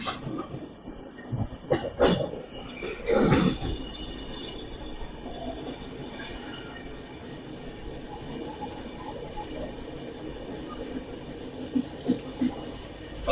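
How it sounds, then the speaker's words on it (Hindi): A passenger train pulls out of Hijli station and rounds a curve, its wheels clattering and squealing on the rails in a steady loud rumble, with a couple of sharper metallic bangs near the start and no talking. "और भाई क्या कर्व लेकर मुड़ रही है ट्रेन।"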